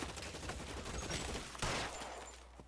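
Gunshots in L.A. Noire Remastered: a dense crackling exchange of gunfire over a continuous background rumble, capped by one louder, sharp close shot near the end.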